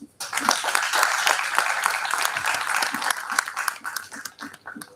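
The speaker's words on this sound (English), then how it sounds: "Everyone, please welcome our dignitaries with a big round of applause." An audience at a national seminar claps a big round of applause to welcome dignitaries, bursting in after a brief pause and staying dense and even, with a few louder claps near the end as it begins to thin.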